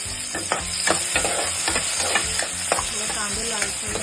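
Onions fry in hot oil in a pan for a stuffed brinjal (bharli vangi) dish, a steady crackling sizzle broken by repeated scrapes and taps of a stirring spoon, close and fairly loud, with no one talking.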